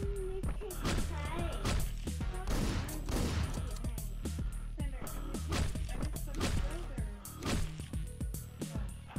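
Rapid shotgun blasts and gunfire in the video game Hotline Miami, dense sharp bursts with pounding game music and someone talking over the action.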